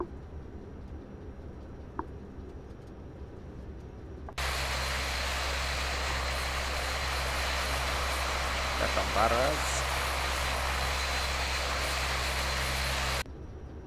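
A Bombardier Q400 turboprop taxis on one engine in a flight simulator, its steady loud droning hum with low tonal bands running continuously for several seconds before cutting off, with a voice talking briefly.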